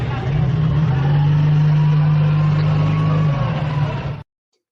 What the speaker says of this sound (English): Videos of V-150 commando armored vehicles in Venezuela are now being shown.